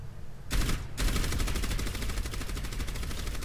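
Orisa's gun in the video game Overwatch firing rapidly, a steady stream of fast, evenly spaced shots that starts abruptly, briefly pauses, then continues loud and close without voices.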